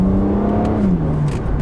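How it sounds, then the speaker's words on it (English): Stock six-cylinder exhaust of a BMW Z4 30i sDrive, loud and close, a smooth steady drone whose pitch eases down as revs fall. "you can hear the exhaust."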